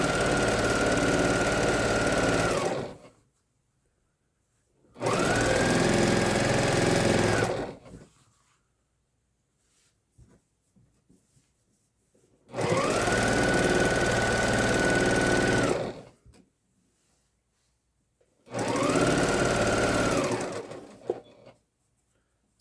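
A computerized sewing machine stitches out a pattern in four sustained bursts of steady, close motor whirring, each a few seconds long and separated by quiet pauses, with no talking.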